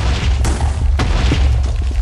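Explosions in Minecraft: two heavy booming blasts about half a second apart, each a sharp burst that rolls into a low rumble, over a continuous dense background of game noise.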